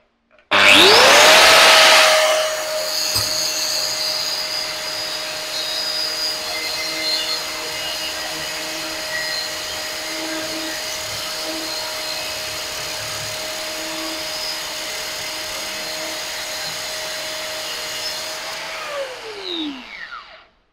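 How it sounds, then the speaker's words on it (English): A cut-off wheel grinds through aluminium: a harsh burst as the disc bites, then a long steady high whine with a sustained tone that winds down at the end, loud and close. "I want you to tell me what this feels like to cut through that aluminium."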